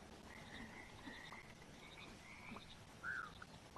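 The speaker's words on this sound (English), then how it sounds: "Let's also catch some frogs." Frog croaks from the pond in the video game Mudborne, a short bright croak near the end over a steady hum of game ambience, with fainter calls earlier.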